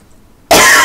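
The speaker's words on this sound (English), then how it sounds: "Sorry, coughing." A single loud, close cough bursts out abruptly after a near-silent moment.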